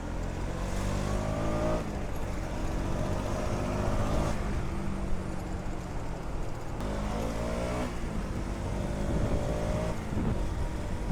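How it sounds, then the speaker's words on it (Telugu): A KTM Duke 200 motorcycle runs close by. It is overdue for service and its oil is nearly dried out. The engine holds a steady drone, then rises and falls through several revs over about eleven seconds, with no voices. "బండి సౌండ్ కూడా ఎట్లా వస్తుంది గాయస్"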